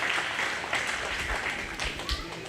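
A county fair crowd claps for market hog exhibitors at a 4-H and FFA swine show, a moderate, steady round of applause in an indoor arena.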